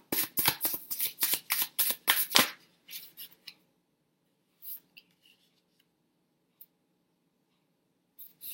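Tarot cards being shuffled close up, a rapid run of about ten crisp riffling bursts for two seconds, followed by a few softer card slides and taps amid near silence.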